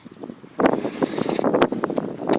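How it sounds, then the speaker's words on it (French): Gusts of wind buffet the microphone in rough, uneven bursts, rumbling loudly after a quiet opening. "Le vent se lève."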